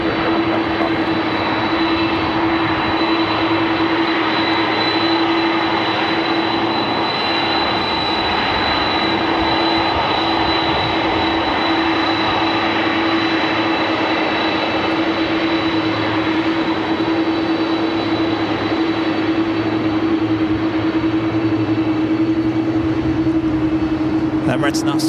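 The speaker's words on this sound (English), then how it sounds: "Emirates now started its taxi, heading over to taxiway Lima" Emirates airliner taxiing at Los Angeles International Airport, a steady loud jet engine hum with a sustained droning tone and broadband rush, unchanging for the whole stretch, heard at close range with faint radio chatter beneath.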